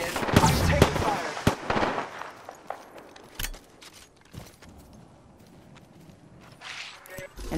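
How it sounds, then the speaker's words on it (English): Incoming gunfire striking the player in a shooter video game, scattered sharp cracks and impacts, louder early then sparser and fainter, with a voice talking over the action. "I'm taking fire."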